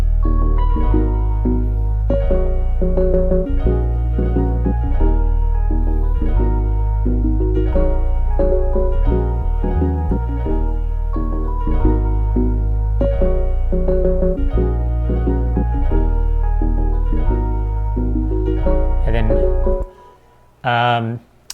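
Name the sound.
soloed musical elements of a beat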